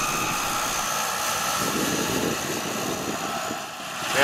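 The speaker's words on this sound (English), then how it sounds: "you see the jump planes going up and down all day ferrying people into the sky" A skydiving jump plane run by Wisconsin Flight Sports drones steadily overhead, its engine hum even and sustained throughout with no voices.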